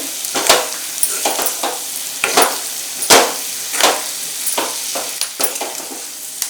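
Chicken fry with coriander leaves sizzles steadily in a pan, with repeated scraping stirs and clinks sounding at irregular intervals over the constant frying hiss.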